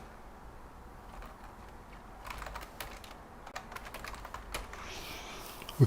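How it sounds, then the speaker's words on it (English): Someone types on a computer keyboard, producing quiet, irregular bursts of clicking keystrokes that quicken midway, heard close up over faint room hum with no talking. "Need to stop fat fingering those keys."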